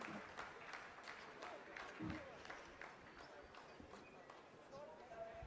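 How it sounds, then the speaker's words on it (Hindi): Scientists in the Chandrayaan-3 mission control room keep up a faint, continuous applause after a lander phase completes. Scattered sharp claps run through a dense, distant crowd wash under a speaking voice. "जी हाँ, आप इस तालियों के गड़गड़ाहट को सुन सकते हैं"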